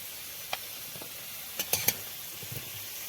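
Potatoes fried until reddish in oil in a wok, faint low sizzle with a few sharp scraping stirs and clinks near the middle.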